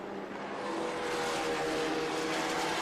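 Vintage race cars, including an Elva MK7S and a BMW M3 lightweight, race at Watkins Glen, with loud, sustained engine roar swelling slightly as the cars press on.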